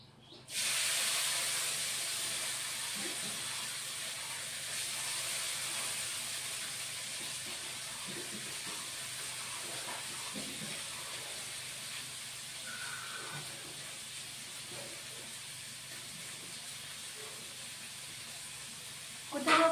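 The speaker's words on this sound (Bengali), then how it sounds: "তারপরে পেঁয়াজ, কুচানো পেঁয়াজ" Chopped onions frying in a pan for rohu fish curry, a sudden loud sizzle that settles into a continuous steady hiss, close by.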